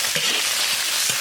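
Bean paste and soaked spices (black cardamom, fennel, star anise, Sichuan pepper, bay leaf and angelica root) are stir-fried in a pot, giving a continuous loud sizzle broken by a few scraping stir strokes.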